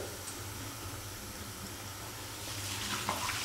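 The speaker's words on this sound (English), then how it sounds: "Open it back up, and with some warm water, just let it do its stuff and get all the soap out of it." Warm water runs and sloshes inside a hydration bladder as soap is rinsed out, a steady close hiss with a brief splashing surge near the end.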